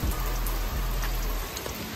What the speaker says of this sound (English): that noise is, it's raining now